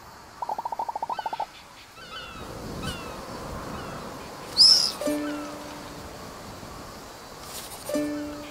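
Bird calls in the Alba: A Wildlife Adventure video game: a rapid burst of repeated hooting pulses, then a sharp high chirp and two steady tonal calls, set against a soft ambient outdoor bed with no talking.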